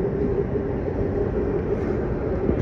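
A train runs through central Berlin near the Berlin Dome, giving a steady, loud rumble of rolling wheels and wagons that holds evenly throughout with no voices.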